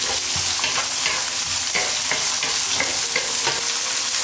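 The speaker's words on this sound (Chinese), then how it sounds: "锅里倒油，油熟后呢，香菇倒进去，玉米、青豆倒进去" Mushrooms, corn and green peas tipped into hot oil in a wok for fried rice sizzle loudly and continuously, with scraping stirs and clatters from the spatula, close and alone without speech.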